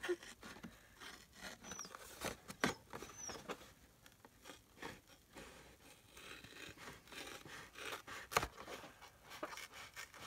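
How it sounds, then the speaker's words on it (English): Scissors cut through paper while patchwork collage tags are made for a junk journal, giving a run of short, crisp snips and rustles of handled paper. The sound is close and fairly quiet, with no talking. "Cut it with the scissors."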